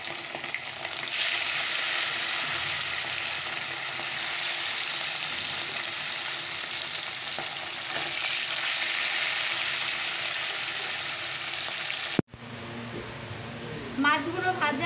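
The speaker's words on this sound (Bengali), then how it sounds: "চলো আগে বাটা মাছগুলো ভেজে নিই।" Bata fish sizzling in mustard oil, a steady loud frying hiss that runs on and then cuts off abruptly, followed by softer kitchen sounds.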